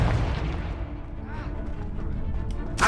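Blasting-spell explosions in the video game Hogwarts Legacy, played on PS5, give a deep booming burst with rumbling decay, then a sharp crack near the end, while a player's voice runs over the game sound.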